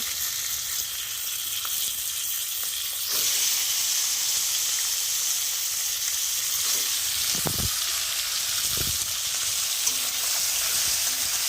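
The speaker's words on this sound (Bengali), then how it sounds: "এটা একটু ভাজা ভাজা হয়ে যাওয়া পর্যন্ত মাংসটা আমার একটু ভেজে নেওয়া হয়ে যাচ্ছে।" Meat sizzles steadily in a wok with chopped onions and cumin, a continuous close frying hiss with a couple of brief scraping stirs near the end and no talking.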